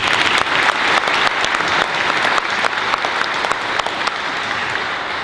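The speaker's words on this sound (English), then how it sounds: "I want to give them a round of applause for that" An audience at a State of the City address gives a round of applause for the event sponsors, loud, dense clapping sustained for about five seconds and slowly thinning, with no speech over it.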